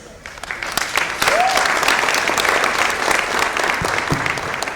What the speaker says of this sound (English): you deserve to give yourselves one huge round of applause.